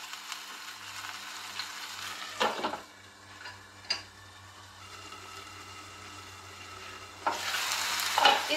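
Tomatoes cooking down and drying out in a pan, giving a soft, steady sizzle with occasional scraping stir strokes, fairly quiet and close, with no talking.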